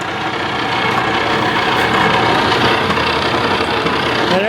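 Antique Boice-Crane spindle sander running after restoration: a steady, loud motor drone with rattling vibration and a continuous mechanical hum throughout, no speech.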